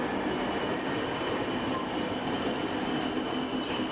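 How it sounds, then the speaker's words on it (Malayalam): Kochuveli Lokmanya Tilak Express, a fully air-conditioned train, rolling past a station at Thrissur, with a steady loud rumble of wheels and carriages and faint squealing tones running through the whole stretch. "കൊച്ചുവേലി ലോക്മാന്യ തിലക് എക്സ്പ്രസ്."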